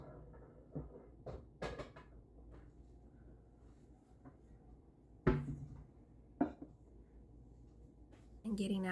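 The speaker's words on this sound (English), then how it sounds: "I'm just getting out a pan for that" A pan is pulled from a kitchen cupboard: scattered clicks and rustles, then a couple of sharp knocks and a door bump, close and fairly quiet in a home kitchen.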